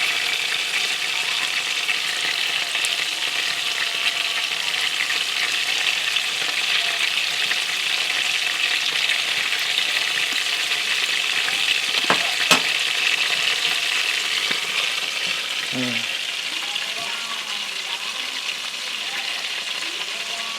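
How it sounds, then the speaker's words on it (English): Pieces of poultry fry in a hot pan with a steady, even sizzle and crackle, broken by a few faint clinks and scrapes as the meat is stirred. "Frying requires a little bit of time and patience."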